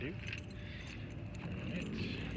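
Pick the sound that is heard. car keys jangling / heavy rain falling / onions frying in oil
car keys jangling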